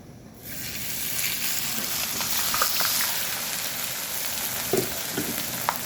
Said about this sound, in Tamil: கருவேப்பிலை, கடுகு, வத்தல், எண்ணெய் காஞ்சிட்டு